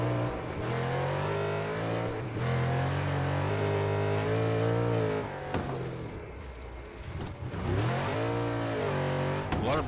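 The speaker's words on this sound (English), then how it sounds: "Really got to get on the brakes hard there." Race cars in the Wreckfest 2 video game roar with loud, continuous revving engines that shift pitch as drivers brake hard and accelerate, with brief tire squeals and no talking.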